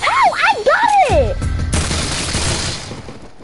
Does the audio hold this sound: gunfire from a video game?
yes